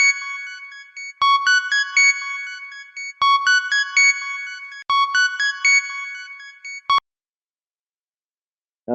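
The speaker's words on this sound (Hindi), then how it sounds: "सरोज, क्यों फोन किया तुमने?" A phone rings for an incoming call: a bright electronic melody plays in three repeated phrases, loud and clean, then stops abruptly into silence.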